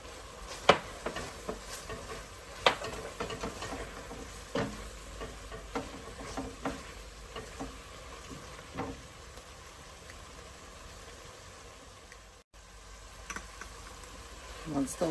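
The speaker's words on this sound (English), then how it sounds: "Now I'm going to add in my herbs, my miso, and I'm going to stir this around" Herbs and miso stirred into cooked onions and garlic in a pot for vegan French onion soup, a low steady sizzle broken by intermittent spoon scrapes and taps, close by.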